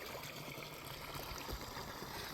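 Water flowing in Kitchen Creek, a stream in a canyon along the Pacific Crest Trail near Campo, heard as a steady, soft rushing trickle without breaks.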